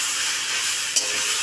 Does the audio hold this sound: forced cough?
no